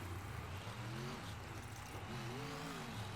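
Indy-style racing trucks launch hard off the start line at a Charlotte, North Carolina drag event, engines roaring loud and steady with rising pitch sweeps as they accelerate, a continuous dense drone throughout.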